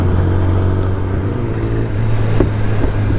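Kawasaki ZX-10R motorcycle riding on a highway in Tamil Nadu, a loud steady engine drone with heavy wind rush, close and continuous throughout.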